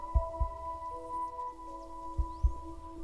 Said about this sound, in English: What is that heartbeat?